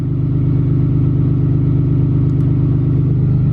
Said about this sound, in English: Oh man, and we're going into high idle. I should show you guys the exhaust in a second here. That'll be loud.